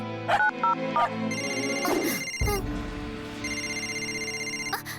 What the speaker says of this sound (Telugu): ఉండు, నేను శివాకి ఫోన్ చేస్తాను.